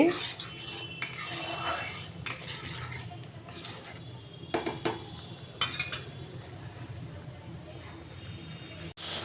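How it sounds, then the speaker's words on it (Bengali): Spice paste stirred and fried in a pan, with soft scraping and clinking of a spatula against metal over a low sizzle, fairly faint and continuous, with a few sharper knocks. "এবার মশলাটা একটু ভালো করে কষাতে হবে"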